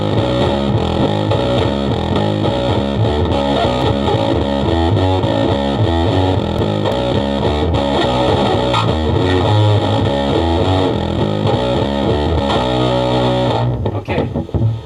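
A bass guitar runs through a 1960s Univox Superfuzz pedal, giving a loud, thick, heavily distorted line of steady riffing that carries on without pause before cutting off sharply near the end.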